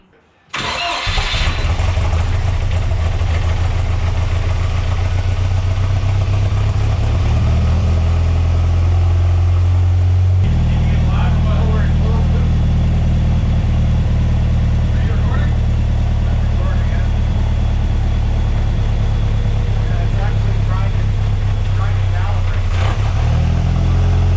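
A Mercruiser 140 boat engine, running rich on a fuel-tuning setup for boost, starts and runs loud and steady, idling with a deep rumble, shifting pitch partway through as it revs and settles.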